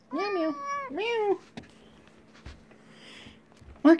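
Two drawn-out meows from a cat close by, followed by quiet tapping and rustling, then the start of another meow.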